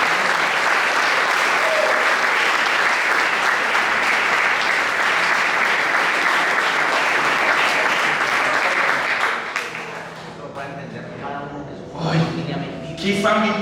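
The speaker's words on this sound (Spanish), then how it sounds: "¿Qué tal si le da un aplauso a Dios por pertenecer a esta familia?" A church congregation applauds loudly and steadily for about nine seconds. The clapping then fades and scattered claps and voices follow.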